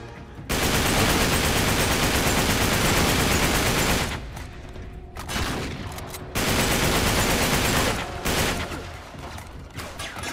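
Sustained automatic gunfire in Uncharted 3: Drake's Deception on the cruise ship level, a dense loud roar of rapid shots broken by two short lulls before resuming.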